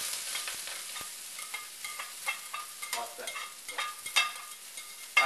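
Ginger, garlic and sliced green onions frying together in a pan for a jumbo prawn dish, a bright close sizzle with repeated bursts and scrapes as the mix is stirred, no voices.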